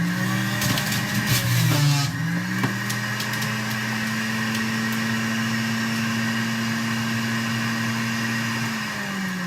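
A juicer grinding cucumber and vegetables whines loudly and steadily, with a strained pitch dip and crunching bursts early on before settling into an even motor drone that tapers near the end.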